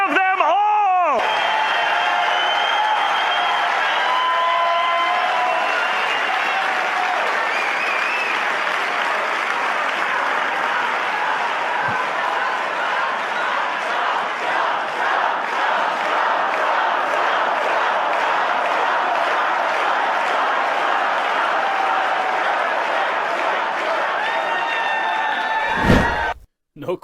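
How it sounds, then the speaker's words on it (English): Political rally crowd applauding and cheering in support of Schedule F, a loud, dense, sustained roar of clapping with whoops and shouts that runs for nearly half a minute before cutting off abruptly at the end. "No question, that crowd was fired up for Schedule F."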